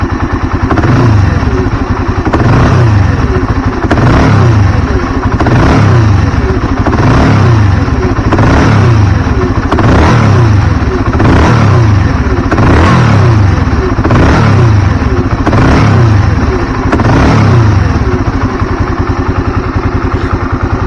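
A motorcycle engine idles loudly up close just after starting, with a rough cam chain clatter and a regular pulsing rhythm throughout.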